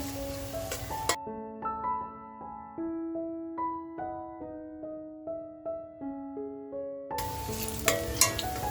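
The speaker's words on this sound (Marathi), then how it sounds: "कांदा बघा आपल्याला लालसर करून घ्यायचा" Onions fry toward a reddish brown for a homestyle prawn biryani, giving a close, crackling sizzle at the start and again at the end. A plucked melodic tune fills the long stretch in between.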